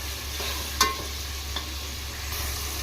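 Finely chopped tomatoes softening in a pan for Nellore fish curry, a steady low sizzle with a couple of faint utensil clicks, close and even throughout, with no talking.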